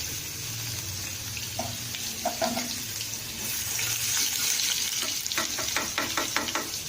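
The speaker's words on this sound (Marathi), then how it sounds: "तेल गरम झालं आता त्यामध्ये मोहरी जिरं आणि लसूण घालायचं" Mustard seeds, cumin and garlic sizzle in hot oil in a kadhai over a low flame. A steady, close frying hiss runs throughout, with sharp crackles and pops growing denser toward the end.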